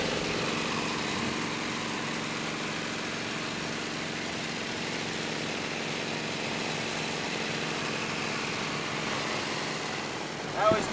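A 1915 Indian motorcycle engine running at speed, a steady, continuous buzzing drone held at an even level throughout, heard from nearby with no pauses.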